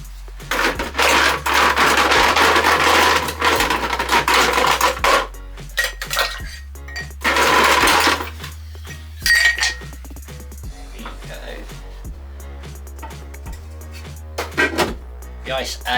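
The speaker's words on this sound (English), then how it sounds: "Now we're going to be wanting to add our ice." Ice added to a martini glass for a reverse martini, loud clinking and clattering of ice against glass in several bursts with quieter gaps, close by, with a low hum beneath.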